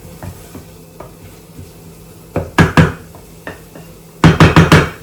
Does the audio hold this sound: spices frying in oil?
yes